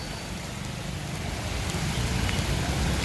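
Steady heavy rain floods the area, hissing and roaring continuously, a dense broadband wash that grows slightly louder over the few seconds, with no voices.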